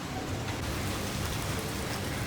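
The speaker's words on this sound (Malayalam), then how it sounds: "നമ്മൾ വീണ്ടും പുറത്തേക്ക് ഇറങ്ങാൻ വന്നപ്പോൾ വീണ്ടും മഴ വന്നു കേട്ടോ." Rain falls outdoors in Fort Kochi as a dense, even patter and hiss, steady and close with no breaks or voices.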